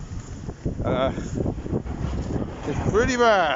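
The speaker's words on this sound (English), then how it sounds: "It's still very windy." Strong sandstorm wind buffets the microphone in a continuous rough roar, with a person talking close by over it.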